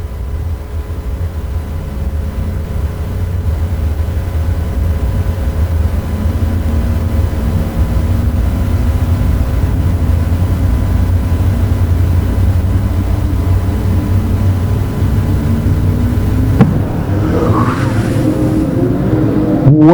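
Modified race cars circling a track, a loud continuous engine roar with droning tones, and a sharp revving swell near the end.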